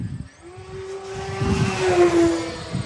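An E-flite Beechcraft D18 twin-engine radio-controlled model airplane, about 1.5 m wingspan, drones overhead with a steady tone that slowly rises and swells as it passes close outdoors.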